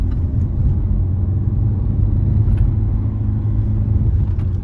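Inside a Nissan Qashqai with the 110 hp 1.5 dCi diesel pulling hard in second gear in traffic, a loud, steady low rumble of engine and road noise builds without a break, no talk over it.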